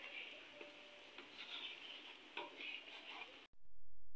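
Onion dosa cooking on a hot pan, a soft steady sizzle with faint ticks and light scraping, quiet and close, cut off abruptly near the end.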